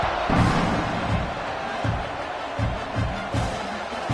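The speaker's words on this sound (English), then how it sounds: "They're set to kick it off, and this crowd now ready to get behind them." A college football stadium crowd for Oklahoma versus Kent roars in a broad, continuous wash at kickoff, with intermittent thumps and bursts of cheering under a commentator's voice.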